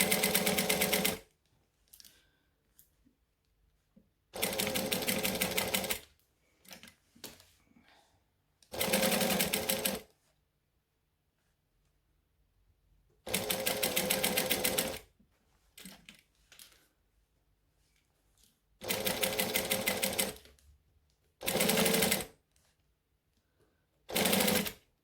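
A sewing machine stitches fabric for a large gypsy-style garment in bursts of rapid, even mechanical chatter of about two seconds each, with pauses and soft handling clicks between them, close and clear with no speech.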